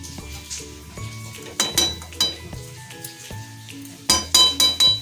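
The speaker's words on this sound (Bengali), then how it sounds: "নারকেল দিয়ে, চিনি দিয়ে একটু নেড়ে চেড়ে নিচ্ছি" A spoon stirs semolina with grated coconut and sugar in a metal pan, producing close scraping and clinking strokes in uneven clusters, with a soft frying sizzle beneath and louder bursts of rapid scrapes toward the end.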